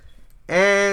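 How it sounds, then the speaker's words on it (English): EDM synth chords from a DAW arrive abruptly after a near-silent start, a loud, rich sustained chord holding steady to the end. "and the chords sound like this"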